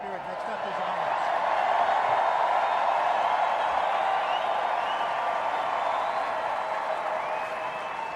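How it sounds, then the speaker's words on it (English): A large crowd claps loudly and steadily at an inauguration party for Donald Trump, a dense continuous wash of applause that holds at a high level throughout. "clapping really loud as if Trump and Melania is coming here"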